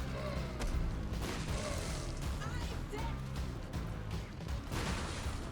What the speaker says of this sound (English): We put the bomb right on her.